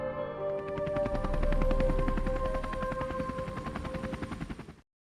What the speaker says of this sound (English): In the silence, you can hear only the ambulances and helicopters day and night.